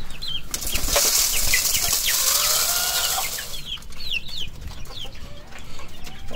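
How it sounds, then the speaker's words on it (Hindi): A chicken escaping its coop clucks and squawks while wings flap loudly in a burst, followed by more scattered clucking close by. "लो जी एक मुर्गी हमारी बाहर निकल गई।"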